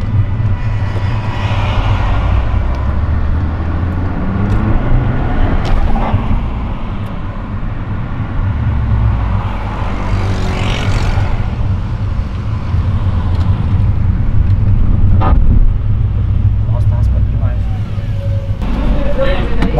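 A Volkswagen Jetta TSI adapted for a tetraplegic driver, heard from inside the cabin as a steady engine and road rumble runs throughout, with people talking over it.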